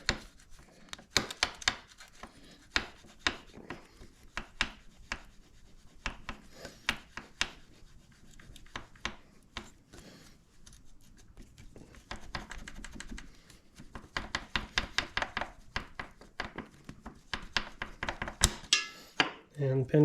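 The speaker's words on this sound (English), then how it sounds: "wiggle the foot peg." The stock footpeg of a 2023 KTM 300 XC dirt bike is wiggled to work its pin loose, producing scattered light metallic clicks and rattles in irregular close bursts.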